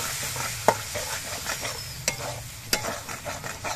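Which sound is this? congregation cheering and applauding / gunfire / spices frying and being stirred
spices frying and being stirred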